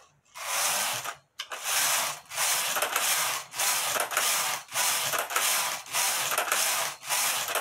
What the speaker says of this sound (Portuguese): Aqui agora eu vou tecer a minha blusa ou manga então, eu coloco a regulagem na normal que eu vou utilizar e teço